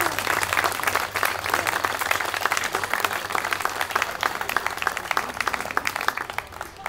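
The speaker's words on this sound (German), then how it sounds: "Dafür bitte ich alle um einen kräftigen Applaus für dieses Engagement für 25 Jahre." A crowd at the opening of a venue applauds vigorously to honour a 25-year anniversary, dense continuous clapping from many hands at close range, loud and sustained, with a low hum underneath.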